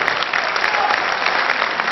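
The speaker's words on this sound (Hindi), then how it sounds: "इस पर कमजोर तालियां मिली मुझे" Audience clapping after a recited Hindi poem at a poetry gathering, a brief, even patter of applause from a crowd, continuous and fairly close, with no voices over it.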